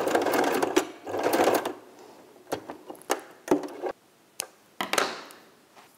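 A sewing machine stitches a seam on a fabric mask, running in two dense bursts of rapid whirring, then falling into scattered short clicks and brief stitching spurts up close.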